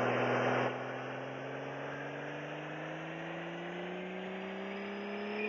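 A car engine in the racing game City Racing 3D, idling and then slowly climbing in pitch as a steady, smooth hum. After a louder opening burst it stays at a moderate level.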